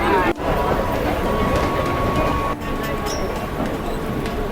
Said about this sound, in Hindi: वही लोकल ट्रेन हमने पकड़ी और दादर से जा रहे हैं बैकुला